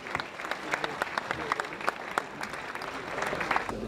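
An audience applauds a fighter at a combat event: dense, sustained clapping from many hands throughout, fairly close, with some crowd noise mixed in.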